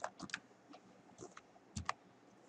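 Quiet computer keyboard keys tapped in short irregular bursts while a captcha is typed into a website's password form, soft clicks with brief pauses between them.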